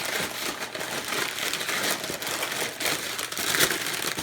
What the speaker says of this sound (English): There's a lot of paper in here.